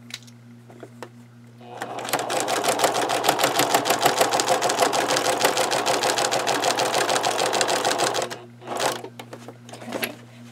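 A sewing machine runs steadily for about six seconds, stitching a denim notebook cover, with a dense rapid needle rhythm. It stops and is followed by a couple of short mechanical clicks and handling noises over a faint steady hum.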